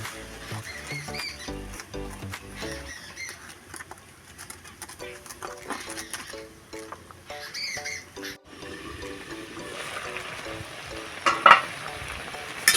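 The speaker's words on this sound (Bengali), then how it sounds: "আমি ফেটে নেব হালকা করে জল দিয়ে" Gram flour (besan) batter is whisked with water in a bowl, a soft, continuous scraping and patter running beneath steady background music for most of the stretch.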